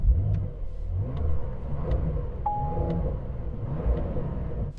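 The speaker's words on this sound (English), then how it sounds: "I'm just going to rev up this car a little bit" A Porsche 911 engine is revved while stationary, giving a deep, throaty rumble that swells and eases in short pulses, with a brief faint whine partway through and no talking.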